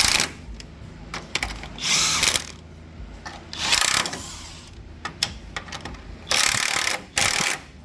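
Power tool, likely an impact gun, tightening 15 mm lower control arm bolts on a 2003-2011 Lincoln Town Car, heard in several loud bursts of a few seconds each with quieter gaps between.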